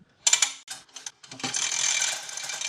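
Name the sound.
McKillans pressure washer hose winding onto reel by hand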